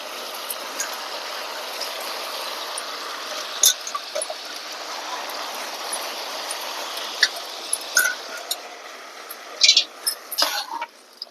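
Toor dal and chana dal being rinsed in water, with a steady soft watery swish throughout and a few brief splashes and sloshes near the end, close and moderately quiet, no talking.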